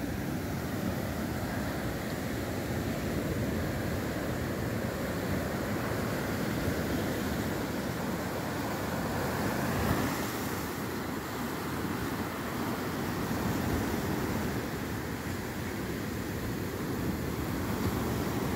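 Pacific surf at Zipolite beach in Mexico, a steady broad wash of waves rolling in without pause, moderately distant and alone, with some wind.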